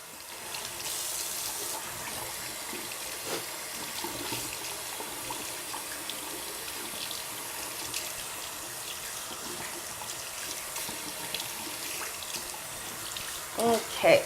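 Tap water runs steadily and close by while hair extensions are rinsed under a faucet, a continuous hissing splash that holds for the whole stretch, with a few louder splashes near the end.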